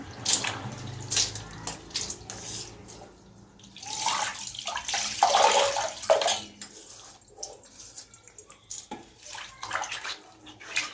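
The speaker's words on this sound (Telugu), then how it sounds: "అలా కొంచెం వాటర్ వేసుకుంటూ బాగా రబ్ చేయాలి" Water splashes and runs over a stone grinding mortar (rolu) being rinsed and rubbed beside a kitchen sink, with bursts of rushing water and scrubbing, loudest in the middle, close and without talk.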